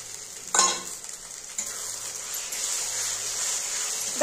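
Spice paste of onion, ginger, garlic and chilli with cumin and Kashmiri chilli powder fries in a pan for chicken kosha, a soft steady sizzle with a clatter of a stirring spoon near the start.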